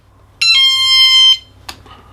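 A magnetic door alarm sensor in chime mode gives one loud electronic chime of about a second, a steady multi-tone buzzy tone that cuts off cleanly, then a faint short blip after it.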